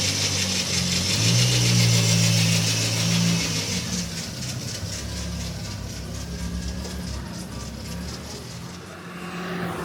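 EnduroKA race car at Donington Park firing up and running, a steady mid-pitched engine drone with slight swells in level, then fading a little as it moves off, no talking.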